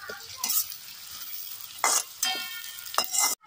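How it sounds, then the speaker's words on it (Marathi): Curry leaves dropped into hot oil while cooking brinjal bharit on a wood-fired stove, with bursts of crackling sizzle and stirring alongside clinks of utensils against the pan, close and uneven. "कढीपत्त्याची 4-5 पानं टाकायची, म्हणजे त्याला चव येते, वास मस्त येतो"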